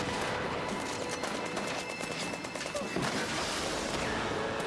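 A bazooka fires in Brothers In Arms 3, a short burst of blasts and crackling gunfire amid continuous battle noise, heard at moderate level with no talk over it.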